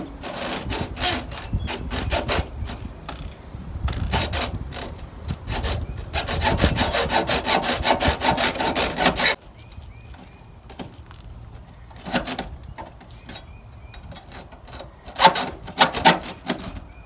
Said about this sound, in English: So I brought this hacksaw with me.